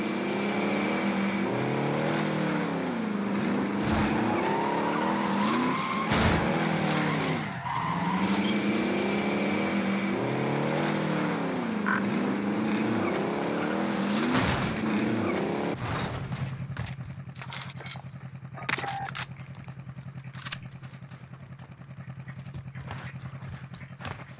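A car is driven in the video game Call of Duty Warzone, its engine revving up and down again and again with tire squeals and bumps, then dropping to a low steady hum while scattered clicks and knocks come in.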